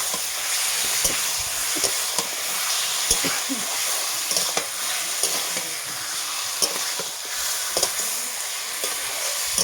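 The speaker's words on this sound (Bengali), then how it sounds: "এইভাবে ভালো করে নেড়ে চেড়ে দেবো।" Meat and potatoes are stirred in a hot oiled pan, a constant sizzle punctuated by frequent rhythmic spatula scrapes and taps close by.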